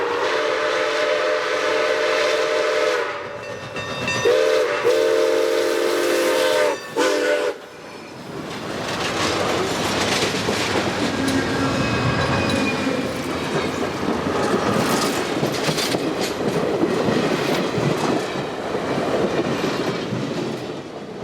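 Milwaukee Road 261, a steam locomotive built by the American Locomotive Company, blows a long multi-tone whistle in several blasts, then rumbles past loudly with clattering wheels and rushing noise that fills the rest of the scene.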